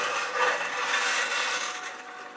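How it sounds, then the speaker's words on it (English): A metal spatula wiped and slid along the edge of a wet acrylic-poured canvas containing Floetrol, giving a continuous close scraping rub that fades slightly toward the end. "I'm going to wipe off my spatula right along the edge of the canvas and then slide my spatula down"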